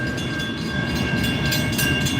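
A CN freight train rolls past with its boxcars, giving a steady, close, loud rumble of wheels on rails with a faint high ring above it and no talk.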